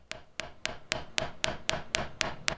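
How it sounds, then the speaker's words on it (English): Nylon-faced hammer tapping metal frets into a guitar fingerboard: nine sharp, evenly spaced taps at a steady rhythm, close and clear with no talk. "I decided I'm going to try one of my nylon hammers for the first time"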